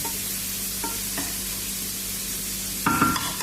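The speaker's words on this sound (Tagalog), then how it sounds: "Lalagyan na natin yung chicken. Pinaig ko muna siya sa olive oil." Chicken frying in olive oil for sinangag (fried rice) gives a steady, close sizzling hiss throughout, with a brief louder clatter near the end.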